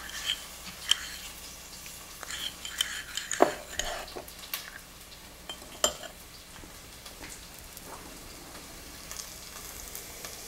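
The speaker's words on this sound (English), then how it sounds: "You keep stirring this till it really dissolves." A spoon clinks and scrapes in a pot of stew on the stove as ingredients are stirred until they dissolve, with soft intermittent taps and a faint sizzle underneath, fairly quiet and close.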